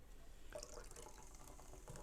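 Cola is poured into a measuring cup in a home kitchen, giving a steady liquid splash and faint fizzing hiss that runs for about two seconds at low level with no talking.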